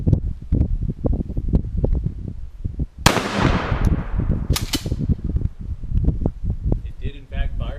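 An old gun fires in a backyard: one sharp, loud report that rings off briefly, followed by a second crack, with someone talking before and after.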